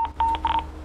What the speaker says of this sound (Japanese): あ、すいません、ちょっと電話です。